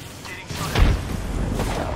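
A frag grenade goes off in a first-person shooter game, one dull boom near the middle of a short stretch of low rumbling game noise.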